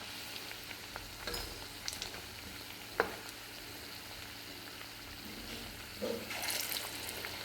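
Sweet potato slices fry in hot oil with a steady, fairly quiet sizzle, broken by a few sharp clinks of a utensil and a brief louder crackle near the end. No voices.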